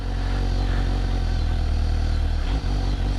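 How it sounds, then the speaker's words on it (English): A Suzuki GSX-S750 motorcycle pulls away in first gear with blip assist, its engine a loud, steady low rumble close by, with a brief dip near the end. "the bike starts to move without me even twisting the throttle"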